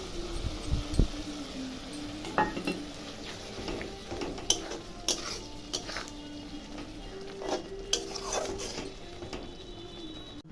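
A cashew and poppy seed spice paste stir-fried in a pan for chicken do pyaza, with scraping utensil strokes and clattering knocks over a low, soft sizzle, no talking.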